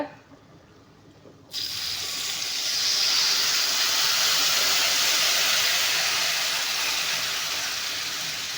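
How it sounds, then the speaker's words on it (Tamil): Salted tamarind water poured into a hot cooking pan, bursting into a loud, sustained sizzling hiss that swells after a quiet start and holds steady. "உப்பு போட்டு கரைச்சி வச்சுருக்கிற புளியை வந்து ஊற்றிக்கலாங்க"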